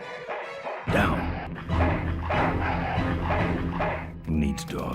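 Dog barks and yips from the Full Throttle Remastered video game, several loud, sharp bursts spaced across the moment amid thumps, with game voices talking over them.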